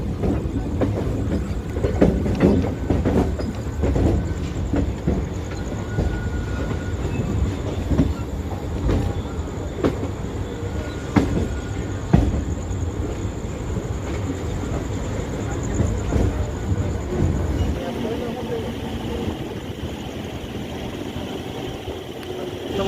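A Howrah to Nabadwip local train runs steadily along the rails with a continuous low rumble and rattling wagon noise, easing and thinning toward the end as it approaches a station stop.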